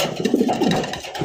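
Light-coloured racer pigeons cooing in a close, soft run of low throaty calls, short and unbroken with no voices over it.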